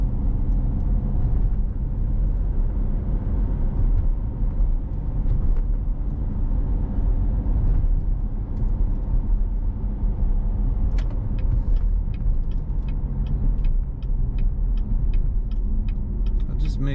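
A 2014 Chevrolet Corvette Z51 3LT with a seven-speed manual gearbox drives along, its engine a steady low rumble heard from inside, with a few sharp clicks near the end.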